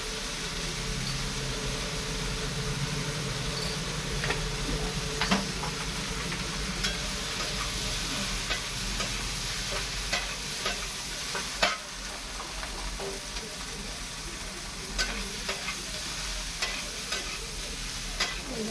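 A pan-fry of ingredients with turmeric and chilli sizzles steadily and fairly loudly throughout, punctuated by frequent scraping stirs and clinks of a spatula against the pan, with a low hum underneath.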